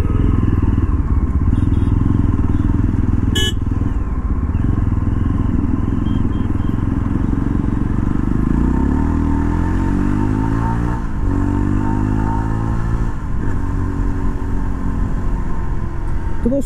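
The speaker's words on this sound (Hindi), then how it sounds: "बाइक की जो एक्सीलरेशन है वो भी काफ़ी अच्छा है" A Yezdi Roadster motorcycle engine revs and accelerates, its pitch sweeping upward through several gear changes, loud and close, with no voices.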